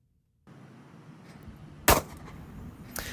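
Two sharp, cracking shots from a Kimber Pro Carry II pistol fitted with an upgraded recoil spring kit ring out about a second apart at an outdoor range, over a faint background hiss.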